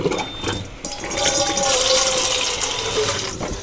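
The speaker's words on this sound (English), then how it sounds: "So I put a little bit of water in the pan just to get the excess seasoning" Water is poured into a pan holding leftover seasoning from Jamaican curry chicken and swirled around, a close, continuous splashing and trickling sound lasting a few seconds.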